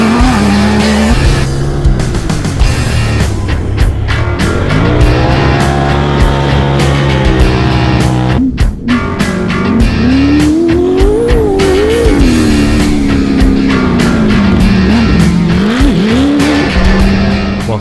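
Off-road race cars competing in the Kalgoorlie Desert Race, engines roaring loudly and continuously as they rev up and down through gear changes, close and dominant throughout.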